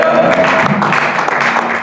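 A church congregation claps and cheers in a steady, dense burst of applause that fills the room, with voices mixed in.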